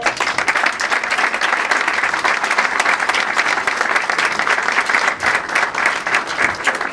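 A crowd at a labour congress in Buenos Aires Province applauding continuously, thick rapid clapping that stays loud and unbroken throughout, with no voices standing out.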